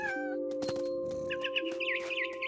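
A mother bird cries in the video game What Remains of Edith Finch. The call is a high warbling chirp that repeats several times and sits over a steady sustained tone of ambient game music.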